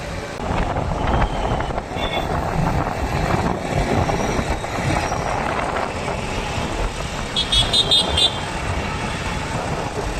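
Busy road traffic at the Nellithope signal junction in Pondicherry, a steady dense rumble of engines with horns tooting through it, close and continuous, with faint voices mixed in.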